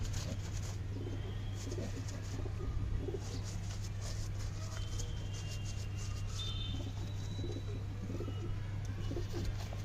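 Pigeons coo in a low, steady murmur throughout, close by at a loft, with soft wing flutters and chirps over a constant background hum.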